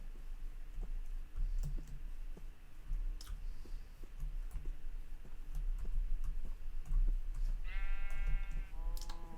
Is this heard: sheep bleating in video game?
yes